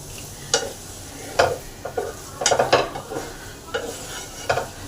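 Potatoes with spices are stirred in a pan, a spoon scraping and knocking at irregular intervals over a low steady sizzle, close by and without talking.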